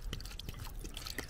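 Water is poured over a compost brick in a basin, giving faint, close trickling and dripping splashes in an uneven rhythm.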